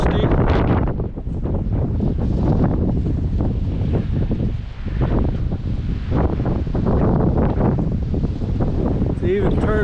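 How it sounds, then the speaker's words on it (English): Loud, constant wind rushes and buffets across an open outdoor spot under a dusty sky, with someone speaking over the gusts the whole time. "Just a little windy out today."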